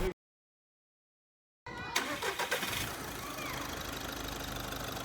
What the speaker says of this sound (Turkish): Aracı yaklaşık 10 dakika kadar rölanti devrinde çalıştırıyoruz ve bu esnada gaz vermiyoruz